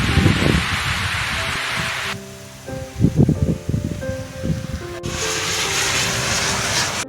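Rain falls steadily on a roadside where an auto-rickshaw stands parked, a continuous broad hiss with deeper rumbling gusts and shifts in intensity, heard close and without talk.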